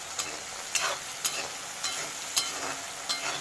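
Onion with coriander leaves frying in a pan gives a steady bright sizzle, and a spoon scrapes through it roughly every half second in an even stirring rhythm.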